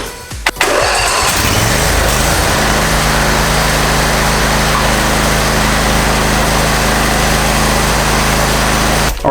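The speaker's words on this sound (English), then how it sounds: "what I'm going to do is I'm going to start it up, get the oil a little bit warm" A Husqvarna YTH22V46 yard tractor engine cranks, catches and settles into a loud, steady idle that runs close and unbroken, with no talking over it.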